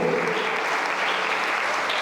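Dense, steady applause from a large crowd, a continuous wash of clapping at even loudness for about two seconds, at an Easter prayer service with a choir.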